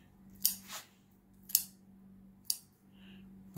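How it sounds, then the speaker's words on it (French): Scissors snipping smoked herring into small pieces for a herring salad: three sharp, close cuts spaced about a second apart, each a crisp metallic snap over a faint steady kitchen hum. "avec les ciseaux"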